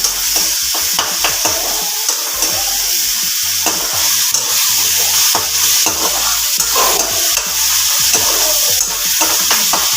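Ginger, garlic, chilli and grated onion fry loudly in hot oil, a bright continuous sizzle broken by repeated scraping and stirring strokes of a utensil in the pan; nobody speaks.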